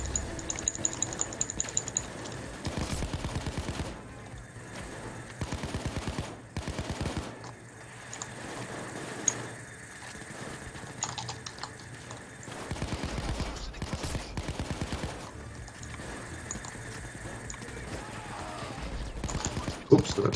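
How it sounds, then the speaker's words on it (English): Gunfire in the video game Payday 2: rapid automatic bursts and scattered shots repeat throughout, fairly close, with game noise and people talking now and then. "you need to come out and start shooting"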